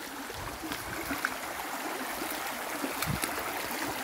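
A stream near Busay Falls on Camotes Island, Cebu, flows with a steady close wash of water, small gurgles and splashes standing out now and then.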